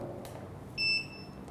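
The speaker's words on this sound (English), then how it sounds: "You notice every time I click it, there's a beeping sound after that." A single faint, high-pitched electronic beep from a camera strobe signalling it has recharged sounds briefly over a low background hum.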